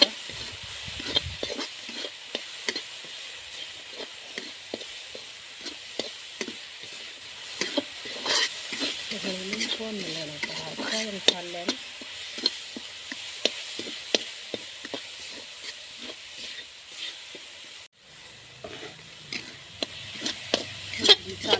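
Spices roasting and being stirred in a hot pan for an aloo and semolina breakfast, with steady sizzling and repeated scraping strokes of a spoon, close and continuous.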